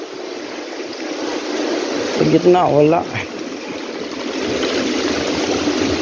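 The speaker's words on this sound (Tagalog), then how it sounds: "Pero agos yan ang agos ng tubig oh." Sea water current flowing steadily along a coastline, a continuous broad wash throughout, with a brief spoken phrase and some chatter in the middle.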